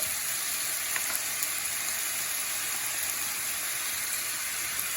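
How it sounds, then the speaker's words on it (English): Linguine with clam sauce sizzles steadily in a hot pan as it is stirred and mixed, a continuous close hiss and crackle with no talking. "we're gonna put about half of our sauce on that and mix it up"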